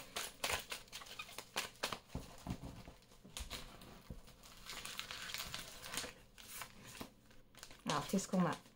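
Tarot cards are shuffled for a reading, giving soft, close crinkly riffles and patters in uneven bursts throughout, with a brief voice at the end.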